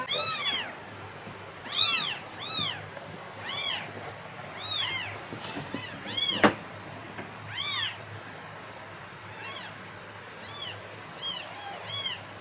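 A mother cat meows repeatedly near a vet clinic, a series of clear, close, plaintive calls in irregular bursts over a quiet background, with no talk.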